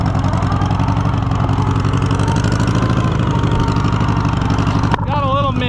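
Neglected Allis-Chalmers C tractor engine runs steadily in gear with a slight misfire, a loud continuous chugging hum; a voice comes in near the end.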